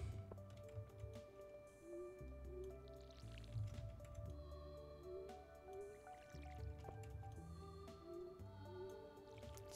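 Crops are watered in the video game Stardew Valley: repeated soft splashing drips and squishy pours recur over gentle background music, moderately quiet and steady, with no one talking.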